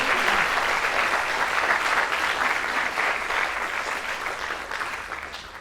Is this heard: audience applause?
yes